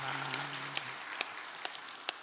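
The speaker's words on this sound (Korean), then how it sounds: "성령님께 선제박수로 영광을 올려드리겠습니다" A congregation at a Sunday church worship service applauds, a soft continuous wash of many hands with a few sharper claps standing out, while a low voice or tone sounds briefly at the start.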